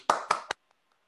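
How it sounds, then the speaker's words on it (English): Three sharp hand claps from a single person, close and distinct, the last one quicker and lighter, followed by near silence. "Let me give you a round of applause."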